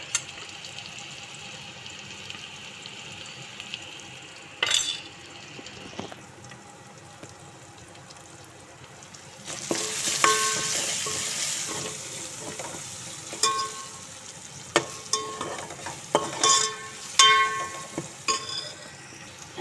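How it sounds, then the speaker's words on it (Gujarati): Chickpeas with red chili powder being stirred in a frying pan: a quiet hiss gives way to a louder sizzle halfway through, punctuated by repeated scraping clatters of the spoon, close by and with no talking. "ચણા મઠેમાં નાખી દઈશું. મિક્સ કરી નાખવાનું છે."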